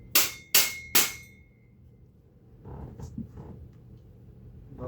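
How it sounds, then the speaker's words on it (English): Three sharp, ringing taps of a rubber mallet driving a bolt through a metal miter saw stand, evenly spaced and close, followed by quieter handling noises. "now your rubber mallet might come in handy here"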